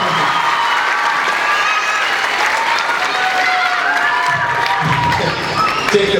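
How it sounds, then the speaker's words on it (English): Applause for Jacob at a school winter band concert, a crowd of parents and students clapping and cheering steadily throughout, with scattered voices and children's shouts mixed in. "How about a big round of applause for Jacob?"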